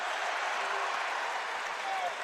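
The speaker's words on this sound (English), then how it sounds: "And the crowd goes crazy for that call as Arkansas will take possession." Arkansas home basketball arena crowd roaring and applauding after a travel call against Fordham, a dense, sustained wash of cheering with no break across the moment.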